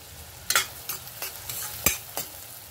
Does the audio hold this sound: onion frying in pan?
yes